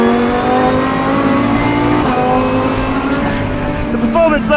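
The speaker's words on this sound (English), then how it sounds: "Fantastic from that V10. It's obviously completely unsilenced." Lamborghini Huracan GT3 on track, its completely unsilenced V10 blaring loud and close, a sustained harmonic-rich engine note holding steady at low revs before rising sharply in pitch with revving at the end.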